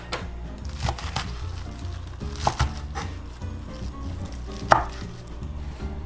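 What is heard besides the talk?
knife slicing leafy green stems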